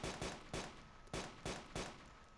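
Gunshots in DayZ during a night operation, five loud, evenly spaced reports with short decaying tails, fired alone with no voices.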